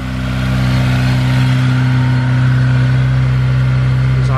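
The turbocharged Honda S2000 engine idles steadily as it warms up, giving a close, loud, even mechanical drone with a deep low hum that barely changes across the few seconds, and no voices.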